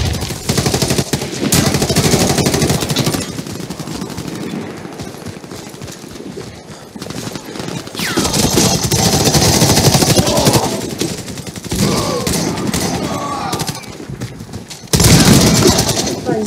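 Rapid automatic gunfire and single shots from the Warface PC shooter game, loud and continuous in bursts, with a player talking over the shooting.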